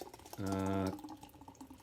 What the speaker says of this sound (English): crack her open, you can hear the widget go, and I just pour it